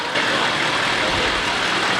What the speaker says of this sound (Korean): 시끄러운 걸 보니까 디젤 엔진 같았습니다